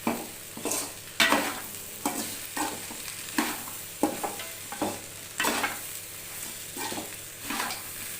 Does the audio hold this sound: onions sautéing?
yes